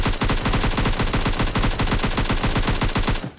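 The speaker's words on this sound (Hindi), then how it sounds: "पीछे से बहुत गंदा वाला फायर देते हैं" Sustained automatic gunfire in a video game, a loud, fast, even stream of shots that runs unbroken for a few seconds and stops abruptly at the end, with no talking over it.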